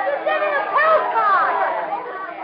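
A bustling street crowd in an old Sherlock Holmes radio drama: a steady murmur of many overlapping voices, thin and band-limited like vintage broadcast audio, with no single word standing out.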